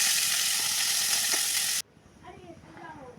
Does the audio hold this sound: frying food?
yes